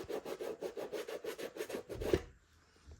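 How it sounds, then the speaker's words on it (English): Suede eraser rubbed back and forth on a Nike SB Dunk Low sneaker, about ten quick even scrubbing strokes close up, then a stop into near silence. "So I'm using my suede eraser."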